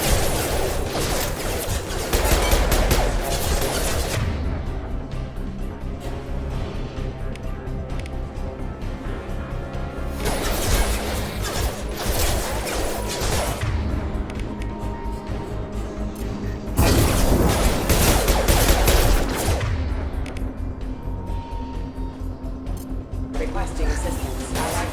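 Gunfire rattles through a Mass Effect 2 firefight in three loud, sustained volleys, with quieter combat noise between the bursts.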